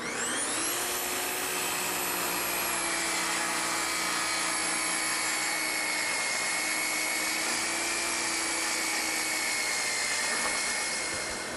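Power saw spins up and makes a tear-free cut through a clamped board, a steady loud high-pitched whine that holds evenly for about ten seconds without a break.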